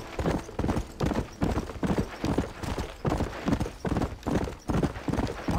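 Horse hooves clip-clop steadily in Red Dead Redemption on PC, a continuous rhythmic gallop of rapid, even hoofbeats heard close and loud throughout with no talking.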